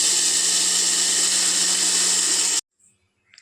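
Mixer grinder grinding urad dal into powder, a loud, steady high-pitched whirring whine from close up that runs for a couple of seconds and then stops abruptly into near silence.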